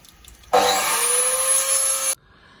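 A power saw or cutter slices through a stone patio slab in one loud, steady burst lasting about a second and a half, starting and stopping abruptly with a sustained high whine.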